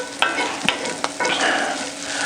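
Bacon fries loudly in a pan with a dense, continuous sizzle, broken by a few sharp utensil clicks and taps against the pan.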